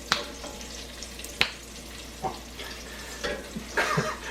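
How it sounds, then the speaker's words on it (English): Pancetta with its fat rendered down sizzles and fries in a pan, a soft crackling hiss punctuated by a few sharper pops and stirring sounds, close and fairly quiet. "So the pancetta is all, the fat's been rendered down. It's starting to get a little crispy."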